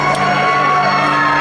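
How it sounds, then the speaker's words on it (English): A concert crowd at a live acoustic show screams and cheers in a loud, dense, continuous roar with no break, close and filling the whole moment. "There's only people screaming your name."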